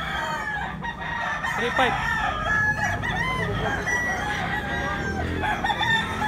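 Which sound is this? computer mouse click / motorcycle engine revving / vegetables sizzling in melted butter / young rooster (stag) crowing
young rooster (stag) crowing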